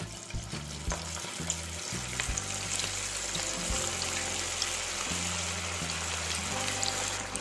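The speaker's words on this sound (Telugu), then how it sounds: "ఇప్పుడు వీటిని డీప్ ఫ్రై చేసుకుందాం నూనెను అనేది బాగా వేడి చేసిన తర్వాత ఈ బాల్స్ని వేసుకోవాలి" Veg manchurian balls deep frying in hot oil, a steady close bubbling sizzle with faint background hum and occasional utensil taps across the whole stretch.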